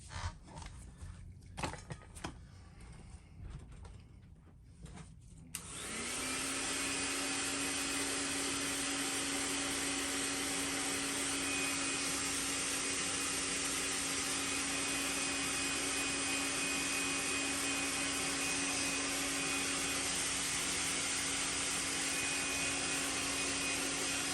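Dryer blowing on fresh paint on a custom fishing lure, switching on after some small handling noises and then roaring as a steady close whir with a constant tone for the rest of the clip.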